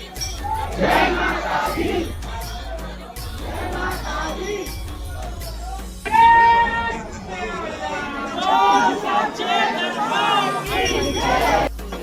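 A dense crowd at Bamleshwari temple in Dongargarh on the first night of Navratri, with chatter and shouted chanting rising and falling close by while a person speaks over the din.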